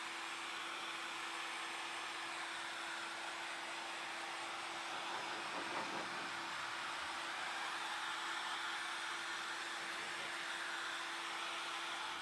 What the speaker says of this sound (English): I'm going to blow the tapestry off with a blower, which is actually a vacuum cleaner, but it has a blower functionality.